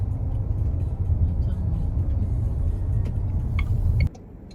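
Steady rumbling road traffic of cars and scooters outside Tianjin Railway Station, a continuous low engine drone close by with faint voices, ending abruptly.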